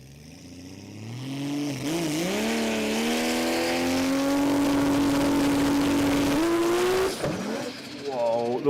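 Pro Mod Nissan S13 drag car running a 2JZ engine making over 2,000 horsepower launches at a drag strip, its engine note climbing steadily in a loud, continuous rising roar for several seconds before cutting off, with a commentator talking over it.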